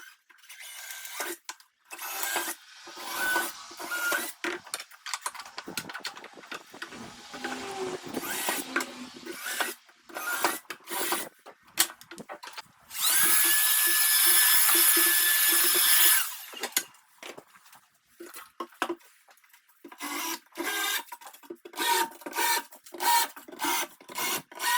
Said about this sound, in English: And now for some positioning and drilling all the way through the backboard.